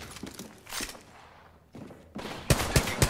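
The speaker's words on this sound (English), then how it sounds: "Getting shot at." Bursts of gunfire in the battle royale shooter Apex Legends, several volleys of sharp shots with quieter gaps between, the heaviest cracks near the end.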